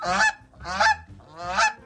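A goose honks three times in a steady rhythm, each call loud, close and nasal, with brief pauses between them and no voices.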